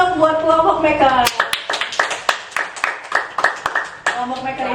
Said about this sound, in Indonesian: Kasih tepuk tangan dong buat kelompok maker.